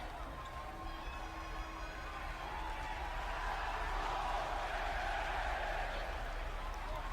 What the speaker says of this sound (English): The crowd in unison as I try super hard to not mark out Adam Cole, baby